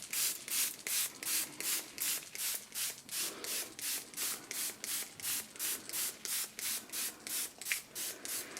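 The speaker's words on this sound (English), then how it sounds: "So let's just give it a good spray with water." A hand spray bottle mists water onto Chinese brush painting paper in a steady run of about twenty close, breathy hissing spritzes with an even pumping rhythm.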